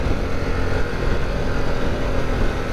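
A 2021 Harley-Davidson Pan America 1250 motorcycle riding along, its engine a steady, continuous drone with low rumble and broad wind noise, loud and close throughout with no talk.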